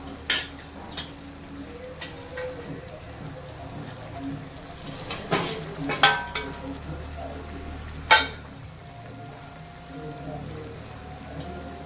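Soybean chunks sizzle in a pan of soy chilli with green chillies, a steady frying hiss broken by several sharp clinks of a utensil against the pan, under a low background rumble.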